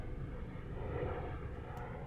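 A JJRC M02 drone plane flies close by, its propeller motor giving a steady, droning hum that holds even and near for the whole short stretch, with no talk.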